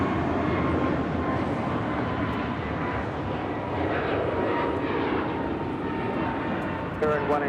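A jet airliner takes off from a runway at LAX, its engines a loud, steady roar that stays constant throughout, with a brief mechanical chirp near the end.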